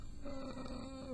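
A cat in heat yowls outside a door, a single brief, faint, drawn-out moaning cry heard indoors.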